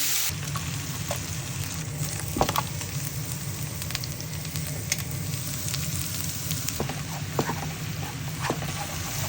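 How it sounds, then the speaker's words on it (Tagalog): Garlic, onion and chicken breast sautéing in a pan give a steady, close sizzle with scattered scraping and stirring clicks from the utensil, with no voices. "ginita ko na lang dyan ang bawang sibuyas at saka yung karne dyan"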